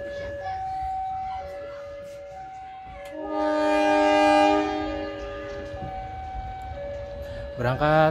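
Train horn blasting repeatedly as a train departs Ciroyom station toward Bandung, long loud tones over rumbling rail noise, with an announcement-like voice faintly in the background.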